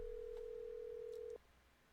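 A telephone call in the Nancy Drew: The Haunted Carousel video game produces a single steady electronic phone tone that holds for over a second, then cuts off abruptly into quiet.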